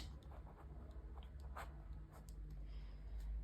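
Chalk or marker scratches across a board in short, soft strokes and taps, faint and close, over a low steady background hum.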